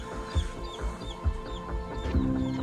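Several chickens cluck softly and irregularly close by, with low background rustling and a faint steady hum.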